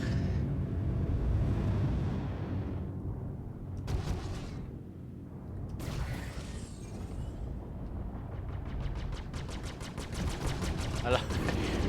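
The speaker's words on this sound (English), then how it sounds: "I love the fact that you can hear the shooting go from kind of muffled and then not muffled" Spaceship gunfire in Star Citizen during a Merlin and Vanduul Scythe dogfight, dense rumbling bursts and rapid rattling shots that shift from muffled to clearer, continuous and fairly loud throughout.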